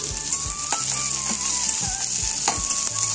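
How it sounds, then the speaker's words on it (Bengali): Onions frying lightly in a pan for a Bengali mourala fish curry, a steady close sizzle with occasional stirring scrapes and no talk. "সেই জন্য পেঁয়াজটা আগে আমি ভেজে নিচ্ছি, বেশ হালকা করে পেঁয়াজটা ভেজে নিচ্ছি"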